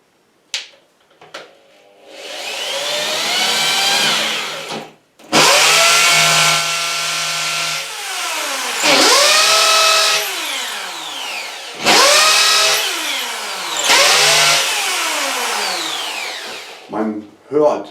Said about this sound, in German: so ziehe ich mein Bohrmittel oder das, was ich jetzt hier ausbohre sozusagen, immer wieder raus, dass ich auch tiefer reinkomme